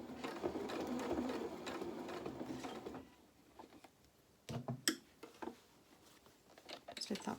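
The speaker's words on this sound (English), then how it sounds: "Lifting the presser foot up, and then we're just sewing" A domestic sewing machine stitches up the side of a reversible winter cape in a short, fairly quiet burst, then stops, followed by sporadic clicks and handling noises.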